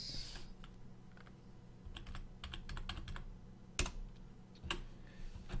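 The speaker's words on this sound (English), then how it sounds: "let's just type it out then" Computer keyboard typing during code entry in a Flappy Bird tutorial, in scattered short bursts of clicky keystrokes with pauses between, fairly close and moderately quiet against a low background hum.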